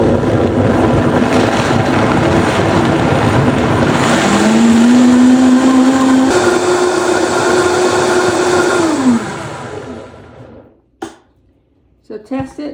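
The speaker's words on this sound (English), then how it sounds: "And you just blend it at high speed for 2 or 3 minutes." A blender whirs at high speed through cashews and milk, a steady loud motor drone with a rising pitch shift midway, then cuts off into quiet with a few knocks.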